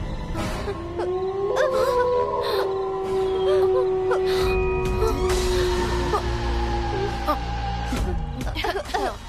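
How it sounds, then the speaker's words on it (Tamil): A jackal howls in long, wavering, gliding wails layered into a mournful chorus, heard as a dramatic night sound effect that holds steadily across the whole stretch with a low rumble beneath. "அது நரி ஊழையிடுற சத்தம்."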